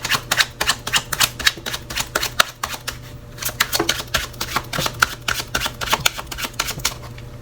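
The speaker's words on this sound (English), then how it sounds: "I'm just going to go ahead and shuffle these like this and lay them out." A deck of tarot cards is shuffled by hand at close range, giving rapid, repeated riffling snaps in irregular bursts with no talk over them.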